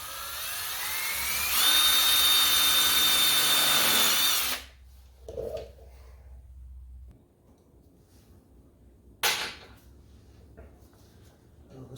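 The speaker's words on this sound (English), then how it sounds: "I'll just drill it on the other side just for good measure" Power drill working on a part during teardown of a 1997 Harley-Davidson Road King, a loud whining run of about three seconds, then quiet clatter and a second brief burst of drilling.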